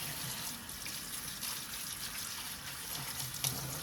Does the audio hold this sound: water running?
yes